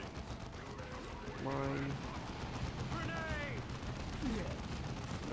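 Warhammer 40K Dawn of War 2 game battle against orks, with scattered bursts of gunfire and mechanical clatter under a voice and faint in-game unit chatter, fairly quiet throughout.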